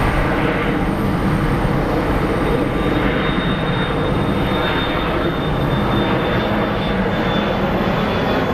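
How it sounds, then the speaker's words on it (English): Boeing 777 taking off at Phoenix Sky Harbor International Airport, a loud continuous engine roar with a thin high whine running steadily through the whole stretch. "I need to film a 777 taking off."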